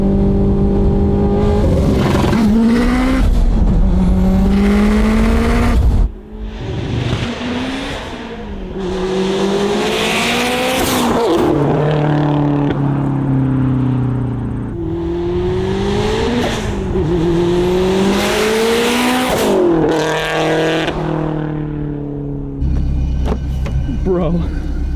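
An 800 whp Subaru STI revving hard and launching, with repeated loud rising and falling engine pulls up close, gear changes and brief pauses between them, and people talking over it.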